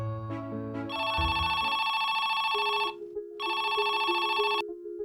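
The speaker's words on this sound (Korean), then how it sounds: "두 시간 뒤에 친척 집으로 전화 한 통이 걸려왔습니다." A telephone rings in two long, loud electronic bursts separated by a short pause, with a low tonal melody running underneath.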